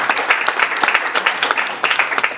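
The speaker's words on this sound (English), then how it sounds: "A round of applause to our guests today." Brisk applause welcoming guests at a youth conference hall, a brief burst of many hands clapping close and loud with no voices over it.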